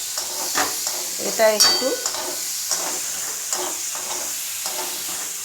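Onions frying in a pan for a Bengali chicken curry, with steady sizzling and a few louder bursts of stirring and pan scrapes, heard close under a brief spoken remark.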